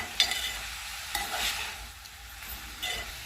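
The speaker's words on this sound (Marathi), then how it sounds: "ते असं खालीवर मिक्स करून घ्यायचं चमच्याने." Quiet, close spoon scrapes turn a mix of boiled val beans, potatoes, green chillies and garlic, with a few soft strokes in a calm home kitchen.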